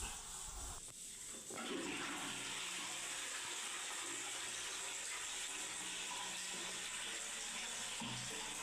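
Water rushes in steadily, filling the flush tank of a newly installed Jaquar single-piece closet, a close hissing flow that starts after a short clunk and runs on evenly.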